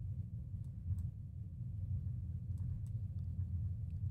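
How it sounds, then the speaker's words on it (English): Distant thunder rolls in as a low, continuous rumble lasting several seconds, steady and fairly loud, with faint crackles above it and no voices. "there is thunder rolling in"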